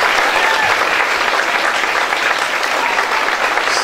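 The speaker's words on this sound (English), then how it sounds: "can we start off with a round of applause for the kids that are here tonight?" A loud, unbroken round of applause fills a hall at a 2019 children's dance competition, with dense clapping from a large audience and faint cheering mixed in.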